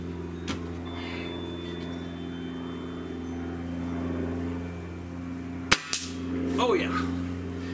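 A Gamo Hornet Maxxim IGT CAT .177 air rifle fires a 10-grain pellet at a shotgun-shell target, giving one sharp, close crack and a quick faint follow-up knock over a steady low hum.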